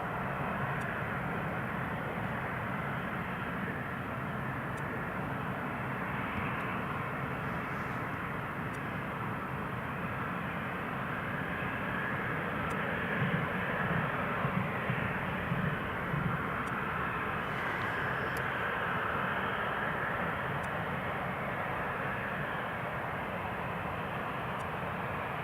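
An Embraer E190 jet taking off at Newcastle International Airport, a steady broad engine roar held at a fairly constant level for the whole stretch, swelling slightly mid-way.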